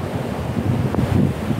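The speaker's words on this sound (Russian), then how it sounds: "еще одна волна идет." Ocean surf rolls in on a beach at sunrise, a steady low wash of breaking waves with a soft swell near the middle, roughened by wind buffeting the microphone throughout.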